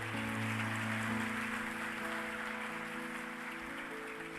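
A church congregation claps together, a dense, sustained patter of applause under steady organ or keyboard chords, with no voices.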